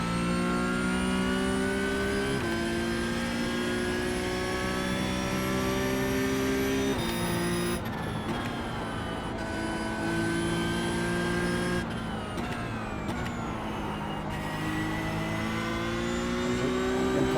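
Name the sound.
Porsche Cup race car engine in a sim racing video game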